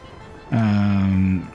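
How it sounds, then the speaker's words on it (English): A train's horn in the Soviet Republic city-building game Workers & Resources sounds once as a loud, steady tone of about a second, close and alone. "Train..."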